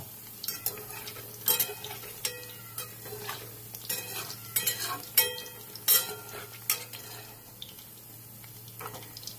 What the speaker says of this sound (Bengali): বন্ধুরা এরকম এক পিঠ ভাজা হয়ে গেলে আস্তে আস্তে উল্টে দেবে অন্য পিঠটা ভাজার জন্য